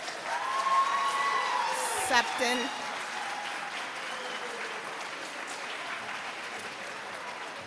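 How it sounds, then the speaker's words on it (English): Broad applause and scattered cheers ring out in an auditorium during a fifth-grade moving-up ceremony as a student's name is called. A voice over a loudspeaker comes through the clapping, which thins as it goes on. "please hold our applause until all students are called"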